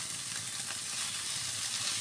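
Mola fish heads frying in oil in a pan, a continuous dense sizzle that stays close and even throughout, with no voices.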